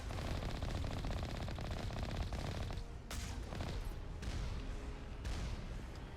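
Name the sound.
turret gunfire in video game Mass Effect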